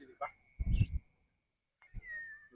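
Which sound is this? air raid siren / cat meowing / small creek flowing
cat meowing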